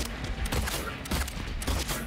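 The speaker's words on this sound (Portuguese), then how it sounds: "Olha o tiro." Gunfire in the Silent Hill 2 Remake video game, a dense burst of rapid shots and mechanical clatter layered together at moderate loudness, with little talk over it.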